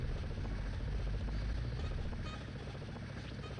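Steady, close rotor and engine drone of an MD500 helicopter flying in the game Simcopter, loud and continuous, easing slightly toward the end, with no voices.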